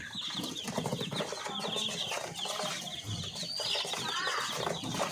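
A brood of healthy paraoakan and upgraded native chicks peep busily and continuously, with overlapping high chirps, soft clucks and light fluttering as they hop about nearby, with no talking.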